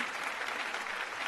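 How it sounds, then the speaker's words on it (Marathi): Steady, dense applause from a studio audience at a Marathi TV singing competition, honouring the young singer Antara, filling the whole short stretch at an even level with no voices over it. "अंतरासाठी एकदा जोरदार टाळ्या."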